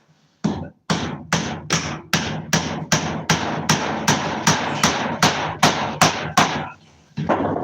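Rapid, evenly spaced hammer blows driving soft nails into wood, about a dozen sharp strikes in a row, close and loud, followed by a short pause and one more hit.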